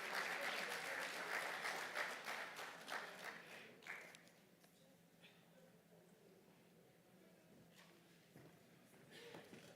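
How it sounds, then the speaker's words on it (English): Audience applause at an investment conference, quite faint overall, with lively clapping for about four seconds that thins to scattered claps and quiet room noise. "Can we give him a round of applause"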